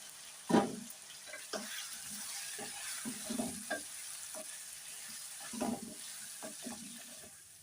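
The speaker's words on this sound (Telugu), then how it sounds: "కంద ముక్కలు మాత్రం ఒక 5 నిమిషాలు ఈ మసాలాలు ఆయిల్లో బాగా ఫ్రై అవ్వాలండి" Elephant foot yam pieces frying in masala oil with ginger-garlic paste and mint, stirred with a spoon, giving a steady low sizzle broken by several scraping stirs and clinks against the pan.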